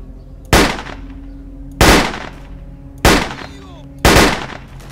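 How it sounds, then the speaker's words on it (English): Four loud, sharp gunshots ring out at roughly one-second intervals in the video game S.T.A.L.K.E.R. Call of Chernobyl, each with a brief decaying tail over a quiet humming background. "Still shooting."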